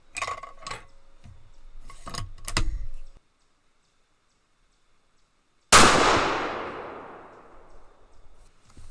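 A Savage 110 Precision rifle in .300 Winchester Magnum fires one loud, sharp shot after a short silence, its report ringing out and decaying over a few seconds; handling clatter and small clicks come before it.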